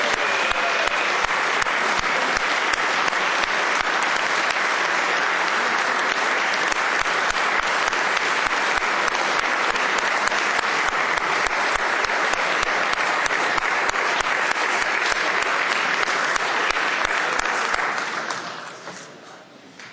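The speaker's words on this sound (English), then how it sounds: "a warm round of applause" Sustained applause from a large crowd fills the room, steady and loud, then fades away near the end.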